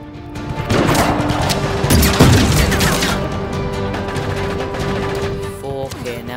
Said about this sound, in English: Let's use the sniper a little bit.